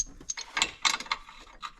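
Metal hardware clinks and rattles as a bolt, spacer and nut are fitted by hand on a Kawasaki Teryx 4 lift kit: a handful of short, close ratcheting clicks and taps, moderately quiet.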